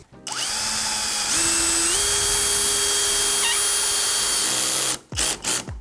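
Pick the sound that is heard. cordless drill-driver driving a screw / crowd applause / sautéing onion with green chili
cordless drill-driver driving a screw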